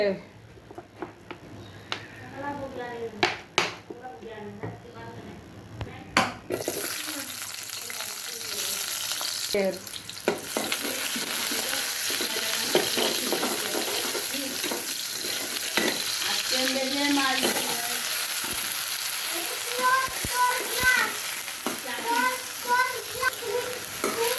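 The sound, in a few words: shrimp and eggplant frying in a pan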